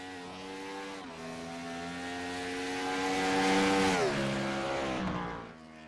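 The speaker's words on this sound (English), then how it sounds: "Let's take a look at Brett the Jet right here in that number 71 machine." In a sim racing video game, a Chevy Impala race car laps a road course. Its engine drones steadily and climbs in pitch as it accelerates, then drops away through a downshift, with no voices.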